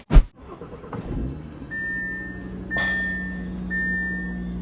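Audi RS3 engine cranking into life, a sharp starter burst followed by a rising idle and brief revs with a thin whine layered over a steady low hum, heard close and alone.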